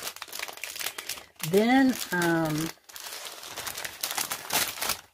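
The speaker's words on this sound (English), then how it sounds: "sorry for the crinkling" Plastic packaging around a craft pad crinkles in close, broadband bursts, with a person talking over and between them.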